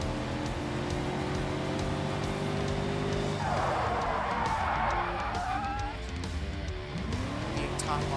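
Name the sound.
non-ABS car skidding under locked brakes in racing video game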